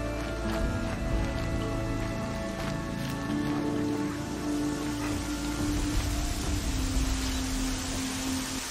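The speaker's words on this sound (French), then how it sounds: "Il fait que pleuvoir, que neiger, quoi." Rain falls in the game Horizon Zero Dawn, a soft, constant patter and hiss with faint droplet ticks, steady and quiet throughout with no voices over it.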